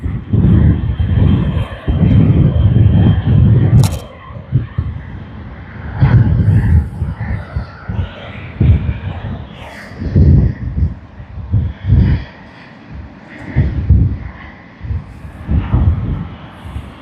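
A Jetstar jet airliner departs Sydney Airport, a loud, close engine roar that rumbles and pulses with wind buffeting as the aircraft climbs away.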